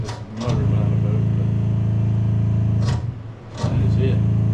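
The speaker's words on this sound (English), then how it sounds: "There's a motor behind the boat" Motor at the back of a new fishing boat idles with a steady, low, close hum, briefly dipping near the end before resuming at the same even level.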